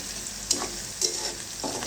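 Crushed onion and garlic hit hot oil for a tempering over lentils with jute greens, giving a continuous loud sizzle with two sharp crackling spits about half a second apart and a short stir near the end.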